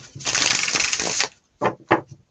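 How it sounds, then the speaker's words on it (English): Tarot cards being shuffled, a dense riffling burst lasting over a second, followed by two short separate card flicks, close and fairly quiet with no talk. "I love shuffling cards."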